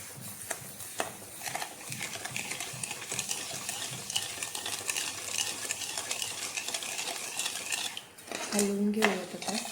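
A spoon scrapes and stirs sugar syrup of sugar, a little water and a few drops of food colouring in a pan, a steady busy scraping with rhythmic strokes that ends in a louder clatter.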